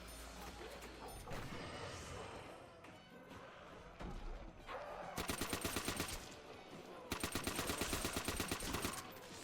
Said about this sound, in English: Ooh, STG. Circa 44. Quality piece of engineering this here gun.